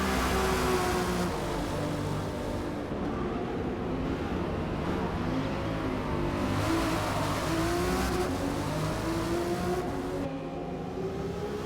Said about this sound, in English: A little bit of wheel spin coming off of the hairpin.